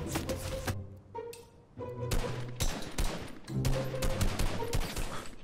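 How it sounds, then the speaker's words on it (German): Rapid gunfire in a video game aimed at the player, with repeated bursts of loud, closely spaced shots that rattle together into a sustained fusillade. "Die schießt jemand auf mich!"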